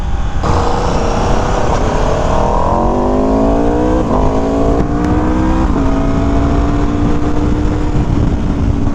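A loud, close motorcycle engine rumbles and revs, its pitch rising and falling through several throttle changes over a steady roar.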